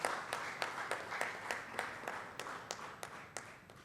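Audience at a Constitution Day event claps in a steady rhythm, sharp, evenly spaced hand claps sounding faint and somewhat distant over a soft hall background.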